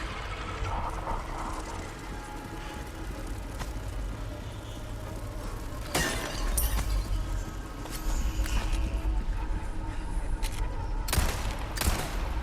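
Gunfire in the Resident Evil 4 video game, with several sharp shots bursting out around the six-second mark and again near eleven seconds over a busy background of game ambience and movement.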